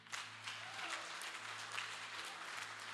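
Steady crowd applause fills a church service, a dense wash of clapping that holds at an even level throughout, with a low hum underneath.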